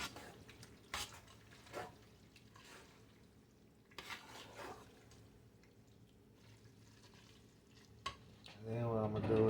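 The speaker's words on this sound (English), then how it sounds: "And I'm gonna stir this up." Food being stirred in a pan over medium-low heat, with scattered scrapes and clinks of the utensil and a soft sizzle underneath, ending in a louder burst of activity.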